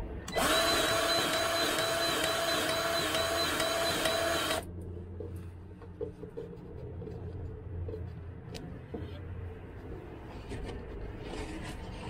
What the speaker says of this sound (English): The main bearing took grease.